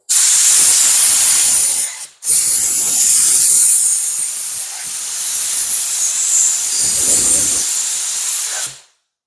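A spray gun laying down base coat paint lets out a loud, close, continuous hiss that breaks off briefly near the start, then resumes and runs steadily until the trigger is released.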